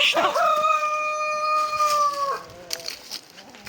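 A rooster on a farm lets out one long drawn-out crow up close, followed by faint clucks and scattered background noise.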